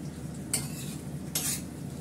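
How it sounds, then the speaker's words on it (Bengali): Fish frying in a pan, a low continuous sizzle with two sharp metallic spatula scrapes against the pan, close and without talk. "তারপর একদম মাছটা ছেড়ে দিলাম"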